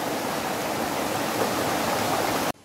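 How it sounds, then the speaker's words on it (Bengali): A small waterfall near Mongpu sends water rushing down, heard as a close, steady broadband roar. It continues unbroken until it cuts off abruptly just before the end. "ওদিকে একটা ছোট ফলস রয়েছে, ছোট ফলসের জল এখান দিয়ে নামছে"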